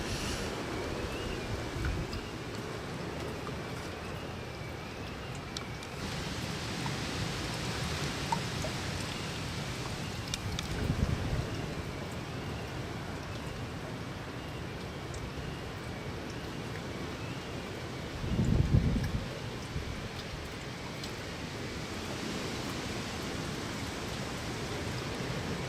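Rain and wind during Windstorm Barney, heard from a sheltered spot outdoors: a constant hiss of rainfall under a low wind rumble, with a couple of brief louder gusts, no voices.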